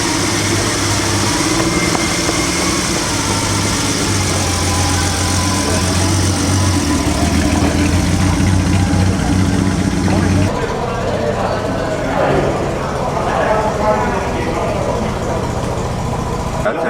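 A rare Zagato Ferrari idles at a classic car concours, its low, steady engine burble running throughout and shifting in tone partway through, with voices faintly audible around it.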